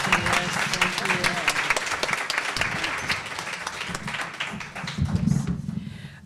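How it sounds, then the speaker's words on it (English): Applause from an audience honoring Dr. Williamson at a panel event, a continuous patter of clapping hands throughout, fairly close, with a voice speaking over it. "Can we give one more round of applause to Dr. Williamson?"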